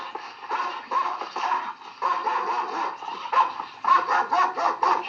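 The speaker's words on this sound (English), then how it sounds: "when they heard that dog bark" A dog in a 1972 horror film barks repeatedly in quick, uneven bursts, mid-loud and close, with growly yips between the barks and no talk over them.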